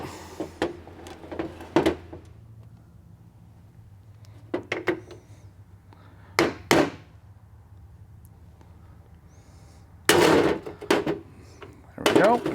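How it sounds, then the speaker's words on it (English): A screwdriver prying the seal out of a KTM 250SX motorcycle water pump gives sharp, separate metallic clicks and knocks in irregular bursts over a quiet background. There is no talking. "So now we're gonna pop that seal out. Honestly, you can just use a screwdriver."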